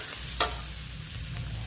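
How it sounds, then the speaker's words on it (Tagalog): A few pork cubes sizzle in a home kitchen pan, giving off a soft steady frying hiss. Two brief stirring scrapes break through it, and nobody speaks. "Maglagay ako ng pork cubes."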